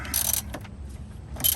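Ratchet wrench with a 19 mm socket loosening a nut on a car tie rod during a tie-rod and brake job, two short bursts of rapid clicking separated by a brief pause, close and fairly quiet.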